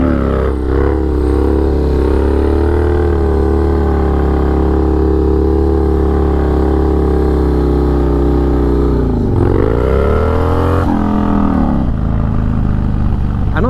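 Harley-Davidson motorcycle idling and revving hard as the rider tries for a wheelie, a loud steady engine drone with a dip and sharp surge near the end, close to the microphone with no talk.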